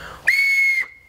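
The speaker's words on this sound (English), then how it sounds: "whistle is ready. Let's blow it." A homemade whistle built from Coca-Cola or beer bottle caps gives one loud, steady, high-pitched tone lasting about half a second, sounding alone and then trailing off into a faint lingering whistle.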